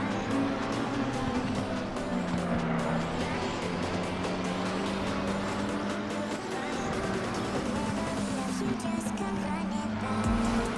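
McLaren race cars roar past in a racing video game at Spa, a continuous loud engine whine with shifting pitch as cars sweep by, with no speech.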